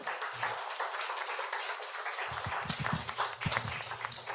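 Applause from a small audience at a community talk, steady broadband clapping that thickens midway and continues to the end.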